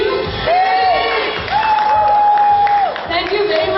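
A conference audience at a Google for Entrepreneurs Week event in Sri Lanka claps and cheers for the competing teams, a steady wash of applause with a few sustained whistles rising above it.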